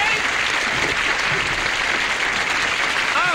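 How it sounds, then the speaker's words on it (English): A live music show audience gives a big round of applause, dense and sustained clapping throughout at full loudness, with some crowd voices mixed in. "Let's give a big round of applause"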